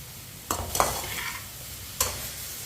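Food cooks in a pan over a medium flame with a steady low sizzle, broken by a few sharp scrapes of a spoon stirring it, two close together near the start and one more later.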